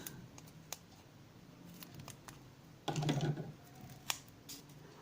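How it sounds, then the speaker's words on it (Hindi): Scissors snip through a strip of adhesive tape during electrical switch wiring work, a short close cutting burst in the middle, with scattered small clicks and handling noises around it at low level. "इसको काट देते हैं"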